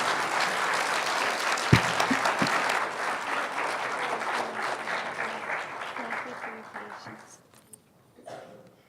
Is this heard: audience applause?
yes